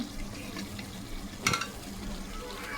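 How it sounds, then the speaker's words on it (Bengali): Chicken roast pieces frying in hot oil in a pan, a steady soft sizzle with a brief louder crackle as a piece is stirred or added midway. "এখন রোস্টগুলা দিয়ে দিচ্ছি"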